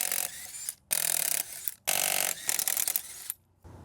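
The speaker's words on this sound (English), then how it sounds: "I'm gonna start with removing lug nuts." A 21 mm lug nut is loosened on the rear wheel of a 2002 Lexus ES300 with a ratchet, three loud, close bursts of rapid ratcheting clicks separated by short pauses.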